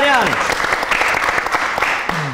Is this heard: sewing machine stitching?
no